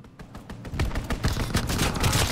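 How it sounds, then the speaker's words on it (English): Rapid gunfire from a fighter plane strafing a target in a WW2 video game, a dense burst of loud shots that keeps building in intensity over a couple of seconds. "Fighter pilot inbound, strafing the target."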